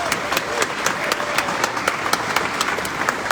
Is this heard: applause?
yes